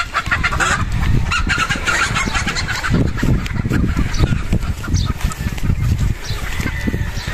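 Golden Boy Sweater gamefowl chickens at a game farm make a dense, continuous mix of clucks and calls, loud and close, with many birds sounding at once.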